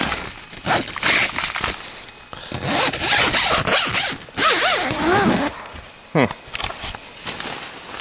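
A frozen zipper is tugged in scratchy bursts, close up, while a person speaks intermittently alongside the rasping, outdoors in the cold near Lake Superior.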